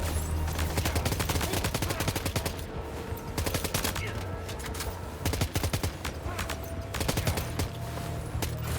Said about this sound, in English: Who's firing at me and where from?